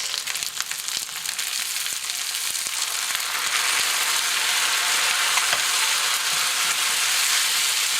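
Onions, carrots and chickpeas cook in a pan with a steady, broadband sizzle and crackle, a few soft clinks and stirring scrapes early on, close and continuous throughout with no talking.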